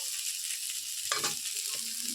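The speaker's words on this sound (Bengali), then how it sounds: "এদিকে আলুটা ভাজা হয়ে যাক" Potatoes frying in a pan at home: a steady, quiet sizzle of hot oil runs throughout, with a brief burst of stirring or clatter near the middle and a few faint knocks toward the end.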